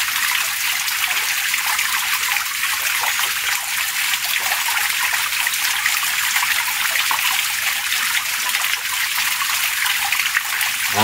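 Water trickles and falls steadily inside a gold mining tunnel, a continuous hissy dribble and splash that stays close and even throughout, with no voices over it.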